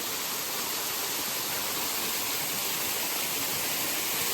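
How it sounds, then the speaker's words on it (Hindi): The waterfall of the Khadi river roars as a constant, dense rush of falling water, steady and enveloping throughout without any voices. "खाड़ी नदी का जलप्रपात यहाँ पे आता है और बहुत अद्भुत जगह बनाता है।"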